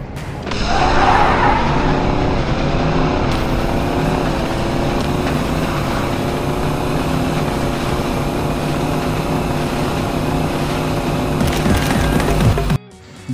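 Engines of a Dodge Ram and a Chevrolet Silverado roar continuously in a car simulator drag race, a loud sustained droning rev with shifting tones that cuts off abruptly at the end.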